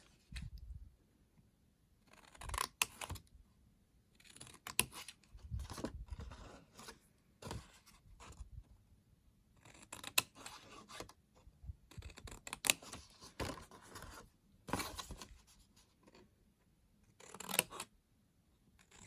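Scissors snipping slits into paper for a handmade gift box, heard as short crisp cuts in uneven bursts, close and fairly quiet, with small pauses between strokes.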